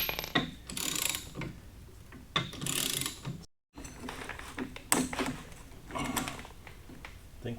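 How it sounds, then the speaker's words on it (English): A wrench turns a bolt on a shifter kart, giving close ratcheting clicks and metallic turning in short bursts separated by brief pauses, with a moment of silence midway. "Just watch what happens as I twist this bolt."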